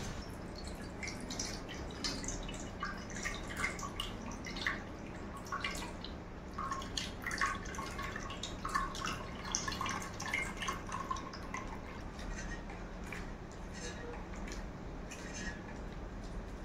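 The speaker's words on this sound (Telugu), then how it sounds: "చింతపండు, టమాటా బాగా పిసకాలండి." Tamarind and tomato are squeezed by hand in tamarind water, giving a continuous soft, wet squishing with frequent small drips and splashes, close and fairly quiet.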